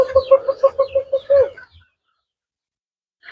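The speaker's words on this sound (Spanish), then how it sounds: "Ahí andan los pollitos, miren." A string of short, rhythmic clucks from chickens and chicks at a game farm, close by, fading out after a second and a half into near silence with a faint chirp at the end.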